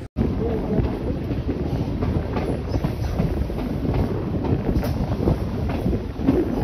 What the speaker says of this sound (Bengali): ট্রেনের স্পিড কিন্তু এবার আস্তে আস্তে একটু কমবে, কেননা দেখো এখানটাতে প্রচুর কার্ভ রয়েছে